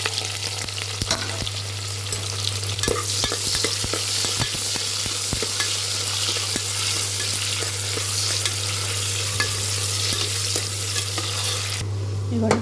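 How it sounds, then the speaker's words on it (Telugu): Chopped onions and green chillies fry in a hot tempering of oil and spices for a potato curry, a continuous loud sizzle with scattered crackles and stirring scrapes and a steady low hum underneath. "ఇప్పుడు ఉల్లిపాయ పచ్చిమిరపకాయలు వేసుకోవాలి."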